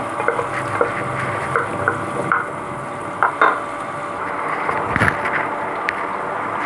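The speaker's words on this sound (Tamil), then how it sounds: "வெங்காயம் வந்து நல்லா வதக்கி விடுங்க." Onions sautéed in a pan for soya biryani masala, a soft steady sizzle with scattered scraping and stirring knocks of a spatula against the pan, close by with no talking.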